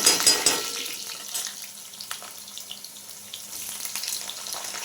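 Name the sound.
potato strips frying in oil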